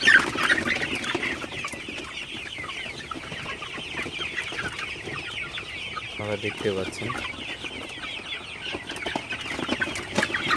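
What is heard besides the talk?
golden super hybrid chickens clucking at night on farm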